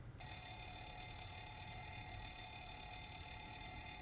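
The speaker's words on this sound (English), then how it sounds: "We're going to test our alarms." Cockpit alarm test on a simulated PMDG 737-800 in Microsoft Flight Simulator 2020: a continuous electronic ringing tone with stacked steady pitches starts abruptly and holds over a low hum, quiet overall.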